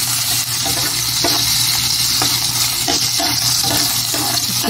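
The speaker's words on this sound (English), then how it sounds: "Sauté and sauté." Food sautés in a pan with a loud, close, dense sizzle, and brief rhythmic scraping strokes come about once a second.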